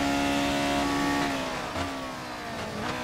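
A 1976 McLaren M23D Formula 1 car in the F1 2019 video game, its engine whining at high revs, climbing steadily, dipping at a gear change and pulling up again, loud and continuous with no talking.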